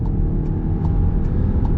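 A Volkswagen Tiguan Allspace 2.0 300TSI in Sport mode pulls hard at full throttle from low speed, a loud, steady engine drone with road noise heard from inside the cabin and no talking.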